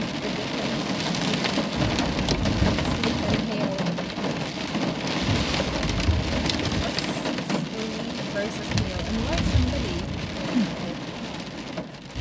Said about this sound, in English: My God, look at the rain.